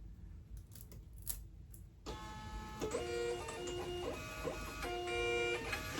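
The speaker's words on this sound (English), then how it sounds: "let's get the label printing" A label printer prints a shipping label indoors, starting after a couple of faint clicks with a steady mechanical whir and rhythmic stepping tones that run to the end, moderately loud and close.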